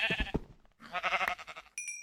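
Sheep bleating in the video game Minecraft, a few short wavering bleats in quick succession, close and clear, with a brief synthetic chime near the end.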